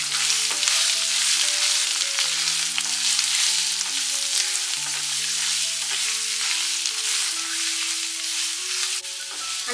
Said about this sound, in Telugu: దీన్ని బాగా మిక్స్ చేసుకోవాలి.